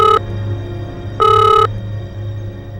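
A landline telephone rings in two loud electronic bursts separated by a pause, alone over a low background hum.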